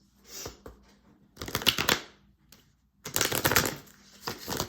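Tarot cards are shuffled in two quick riffling bursts, close up, separated by a short pause with light handling sounds.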